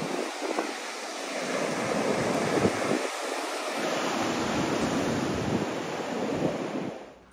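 Steady wind buffets the microphone at the beach alongside the broad roar of surf, a continuous rushing wash with no voices.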